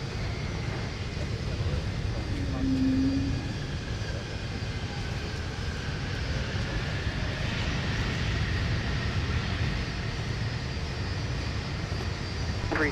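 An airplane landing at Minneapolis–Saint Paul airport, a continuous broad engine roar mixed with rushing noise that holds steady for several seconds, heard from a distance outdoors.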